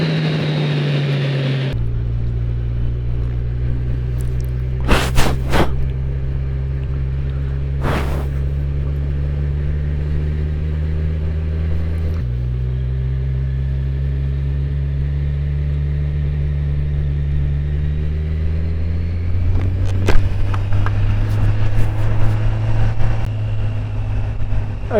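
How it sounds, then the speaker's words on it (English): Riding a motorcycle at about 100 km/h brings a constant roar of wind buffeting, layered over a low engine drone that shifts pitch a couple of times, loud and steady with no talking. "the wind is quite strong, so I'm feeling it"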